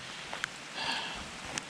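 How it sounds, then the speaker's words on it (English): Steady rain hisses softly and continuously on a restored 1978 Pontiac Trans Am, with a few faint drips standing out. "it's really raining"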